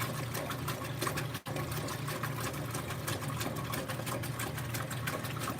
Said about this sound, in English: That is really splashing.